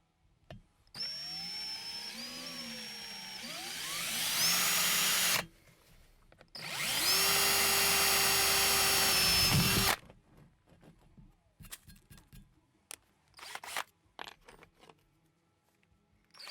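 A drill bores bolt holes into a lift block for a backyard Subaru BRAT build, two long loud bursts of whining motor with a grinding bite, followed by clatters and handling noises close by.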